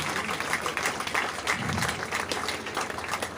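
A crowd at a prize distribution for a rain run applauds the race winner with continuous, moderately loud clapping that stays even throughout, with a low murmur beneath it.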